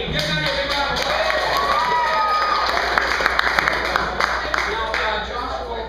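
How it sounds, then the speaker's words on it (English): Applause from an improv comedy club audience, dense clapping mixed with crowd noise and a few sharper claps, holding steady for several seconds before easing off. "give Maddie a big round of applause"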